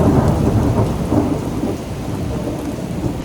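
Heavy rain pours steadily outdoors during a thunderstorm, with low rumbling thunder swelling beneath the dense hiss of falling water throughout.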